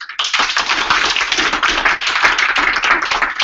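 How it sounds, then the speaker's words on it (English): Sustained applause from a room full of people, loud and dense, with claps blending into a continuous patter throughout. "There we go, some clapping and not so much coughing"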